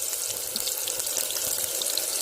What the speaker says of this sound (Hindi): तेल गर्म हो चुका है। अब इसके अंदर हम डालेंगे प्याज। ये प्याज डाल दिए हैं।